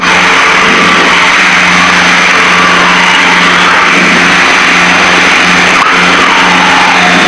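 The twin engines of a Piper Seneca airplane drone loud and steady during the climb, a continuous unbroken roar with a slight pulsing beat and no voices.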